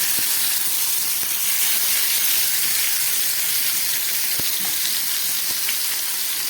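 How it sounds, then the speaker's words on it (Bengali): Pomfret fish and whole spices such as cardamom, cinnamon and cloves fry in hot oil, a dense continuous sizzle and hiss with a few sharp pops and crackles along the way. "এটাকে আমি ভেজে নিচ্ছি।"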